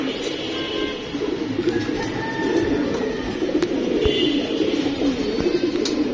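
Old-breed Jabra blue-eye pigeons coo in soft, repeated low murmurs close by, with a faint hum of outdoor background beneath.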